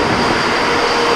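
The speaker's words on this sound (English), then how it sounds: "So the engine room is a little loud." Inside the engine room of the ship Northern Yeager, docked at Dutch Harbor, big engines run with a loud, steady, dense roar and a broad mechanical rumble. No one speaks.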